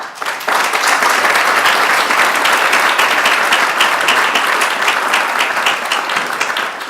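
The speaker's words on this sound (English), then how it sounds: "Can we give Mike Lyles another round of applause?" Loud, sustained applause from an audience at a bar association and human relations commission anniversary reception, a dense wash of many hands clapping that swells in quickly and carries on for several seconds.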